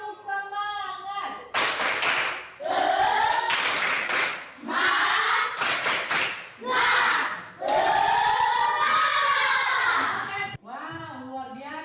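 A class group performs the rhythmic tepuk semangat clapping ice-breaker: loud bursts of shouted chanting voices alternate with sharp clap sequences in a stop-start pattern, close and energetic throughout.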